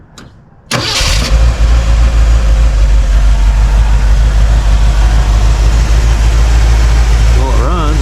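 A 1976 Ford E-250 van engine cranks and catches abruptly, then settles into a loud, steady rumbling idle close by, with a short voice near the end.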